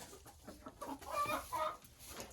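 Two broiler hens clucking softly while eating fresh grass make faint, close, irregular clucks and murmurs in a quiet outdoor setting, with a slightly louder cluster in the middle.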